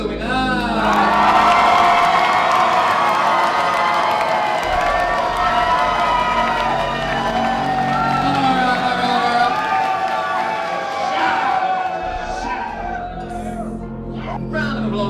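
Audience at a drag show cheering, whooping and applauding for the announced winner of the night, a loud sustained roar of voices and clapping with shouts rising over a dense crowd wash throughout.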